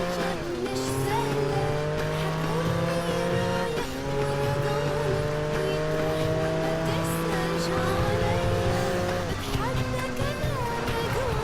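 In Project Gotham Racing 4, a game car lets out a sustained, loud tyre squeal and skid under a droning engine, with the pitch breaking off and restarting a few times, as a voice talks over it.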